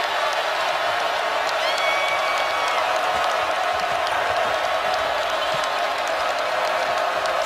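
A basketball arena crowd for Miami Hurricanes versus Virginia Cavaliers roars in a steady, uniform wash of cheering and applause, with a commentator talking over it.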